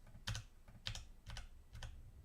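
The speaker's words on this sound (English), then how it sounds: "let's just use my laptop keyboard instead" Four short clusters of keystrokes on a laptop keyboard, quiet and close, with soft clicks spaced about half a second apart and no talking.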